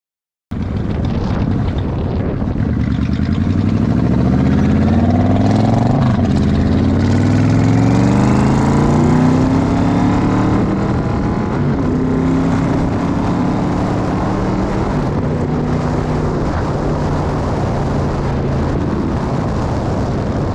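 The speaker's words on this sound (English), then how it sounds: "putting everything back together, and start the motorcycle." Yamaha XVZ Royal Star V4 motorcycle engine, after a short silence, starting and then running at a loud, close idle, with rises and falls in pitch as the throttle is blipped, continuing steadily to the end with no talk.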